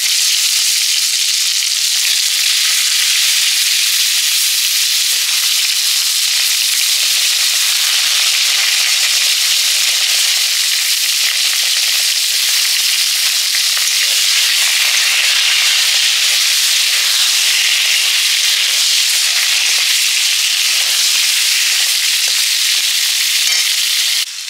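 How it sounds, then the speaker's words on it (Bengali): Pieces of pointed gourd (potol) fry in hot oil, giving a loud, steady, close sizzle with fine crackling that runs unbroken throughout. "পটলগুলো ভেজে নিচ্ছি"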